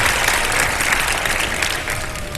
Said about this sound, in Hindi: तालियां बजा दें एक दफा